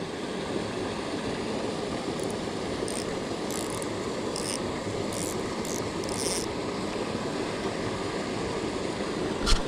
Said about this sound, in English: Right in the white water where that waterfall's coming in